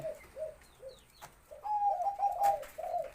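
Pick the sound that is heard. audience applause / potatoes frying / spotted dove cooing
spotted dove cooing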